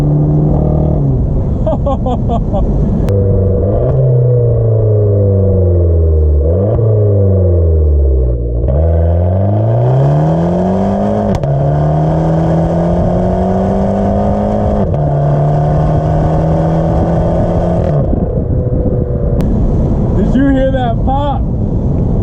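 A Fiat 500c Abarth engine revs loud and close, its pitch sweeping up and dropping through repeated downshifts, with blips between gears and a steady high-rpm drone, windows down. Brief talk is mixed in.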